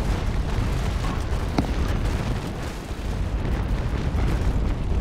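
Naval cannon fire in a Naval Action port battle, a continuous rumbling wash of heavy booms with one sharp crack near the start, loud and dense throughout.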